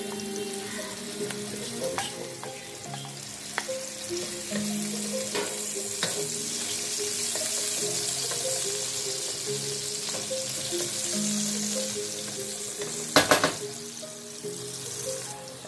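Vegetables stir-fry in olive oil with a continuous loud sizzle, broken by repeated clinks and scrapes of a utensil against the pan and a sharp clatter near the end, with no talk.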